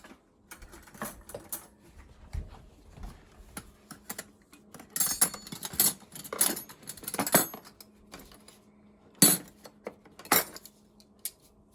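Spoons, a butter knife and a sharper knife being gathered in a home kitchen, with scattered light clicks and a few sharper bursts of metal cutlery clinking, intermittent and close.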